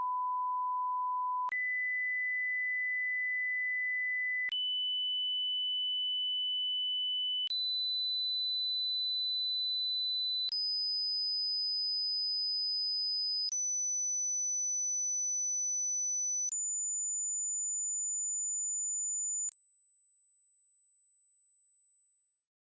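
Pure sine tones climb one by one up a harmonic series: eight clean, steady pitches, each held about three seconds, sounding alone with no other noise.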